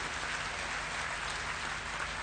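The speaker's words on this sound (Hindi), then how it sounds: "तालियां बजानी हो तो जोरदार बजाओ" A large audience at a gathering applauds, a continuous dense roar of clapping, fairly distant and steady throughout.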